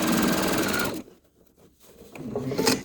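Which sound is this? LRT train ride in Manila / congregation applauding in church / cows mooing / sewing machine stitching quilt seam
sewing machine stitching quilt seam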